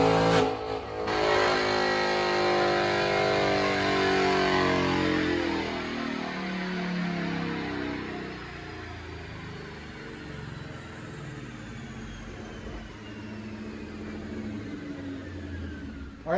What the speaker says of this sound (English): But first, let's check out this dyno pull.